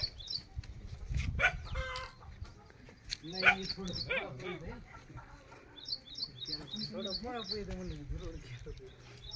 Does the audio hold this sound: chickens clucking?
yes